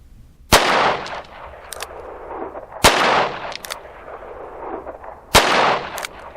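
A Charter Arms Pit Bull .380 ACP revolver with a 3.5-inch barrel fires at an outdoor range. Three loud, sharp shots are clearly heard, spaced about two to two and a half seconds apart, each followed by a ringing echo and fainter crack reflections.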